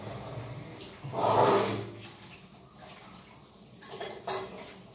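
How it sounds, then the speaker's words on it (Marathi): Water runs into a bucket in a short, louder gush before settling into quieter splashing, with faint voices in the background. "पाणी बंद करा, तिकडनं भरली बकेट"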